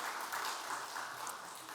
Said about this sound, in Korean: 큰 박수 한번 보내겠습니다